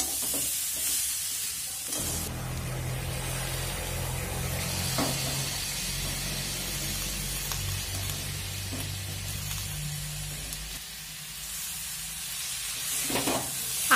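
Fresh spinach dropped into spices frying in a pan for a Bengali palong shak dish, a sudden loud sizzle and hiss that stays steady, with stirring scrapes throughout and no talking.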